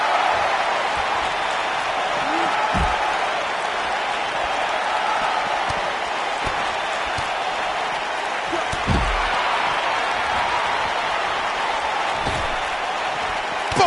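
Wrestling slam impacts in WWE 2K19 on PS4 Pro, a few heavy thuds landing over a steady roaring arena crowd and commentary talk throughout.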